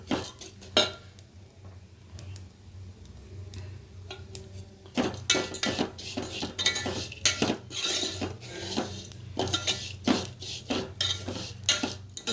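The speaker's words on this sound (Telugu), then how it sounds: "ఇలా కలుపుతూనే ఉండాలి." Vermicelli frying in ghee in a pan, stirred steadily with a metal spoon that scrapes and clinks against the pan under a low sizzle, the strokes growing busier and louder partway through.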